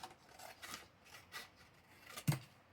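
Scissors trim hand-coloured paper for a small handmade notebook: soft, faint snipping and rustling strokes in an uneven rhythm, ending with one sharper cut, no talk.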